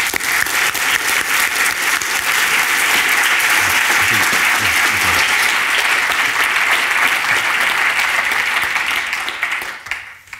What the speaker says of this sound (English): I think we should both give her and Jess, as we welcome her on stage, a round of applause.